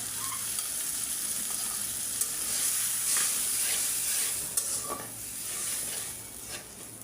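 Turmeric, chili, coriander powder and salt, soaked and then fried in hot oil in a pan for dal, give a steady, close sizzle with faint stirring scrapes throughout, and no voices.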